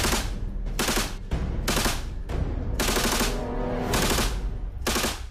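Bursts of rapid automatic gunfire ring out during commando shooting training at a special forces school, loud and close, in several separate volleys with short gaps between them.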